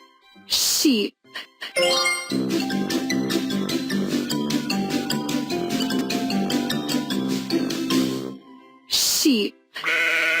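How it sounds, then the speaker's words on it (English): A sheep bleats in a long, wavering, tonal call lasting several seconds, loud and close, set between short bursts of voice announcing animal names. "Sheep."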